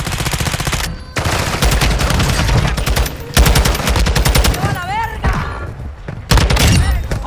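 Shotgun fire from the video game Vondel mixed into dense, nearly continuous rapid gunfire, loud and close, with a voice talking briefly over the shooting.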